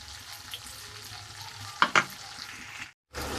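A light sizzle of ginger paste and spices frying in a pan as a splash of water is tipped in, giving two brief sharp hissing bursts before the sound cuts out.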